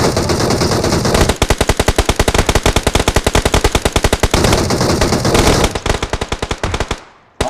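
Rapid automatic gunfire from a PUBG Mobile match, loud and close, in long sustained bursts of evenly spaced shots with brief gaps, ending in a short quiet pause and a final crack.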